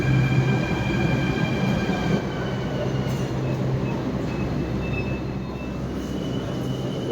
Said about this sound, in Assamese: এখন মেট্ৰ' চলাই আছে এজনী মহিলা মানুহে।